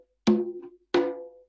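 Two open tones struck by hand, first on a conga tuned to C and then on the lower tumba tuned to G, each a single clean ringing hit that decays slowly, close with no talk.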